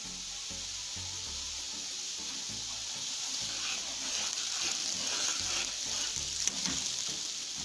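Semolina (suji) sizzling and frying in hot oil in a pan for besan suji halwa, a continuous close hiss with faint stirring scrapes underneath, gently rising in intensity.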